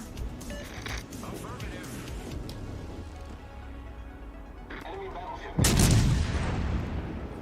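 Heavy naval gunfire from World of Warships Legends warships, a big booming salvo landing near the end after a stretch of rumbling battle noise, with a player talking over it.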